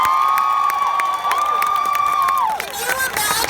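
Crowd at the Women's March in Santa Barbara letting out a loud, sustained cheer, with a long held whooping tone that slides downward near the end amid steady crowd noise.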